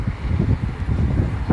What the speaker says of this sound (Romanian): Mamă, ce vânt e!